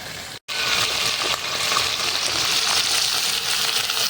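Fish frying in a wok-style pan, a steady loud sizzle and hiss that runs almost unbroken after a brief cut near the start.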